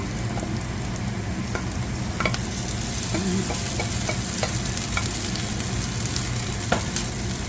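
Pancit canton noodles sizzle and crackle steadily in a pan with vegetables, stirred throughout, with sharp scraping clicks of the utensil against the pan now and then, close and continuous, with no voices.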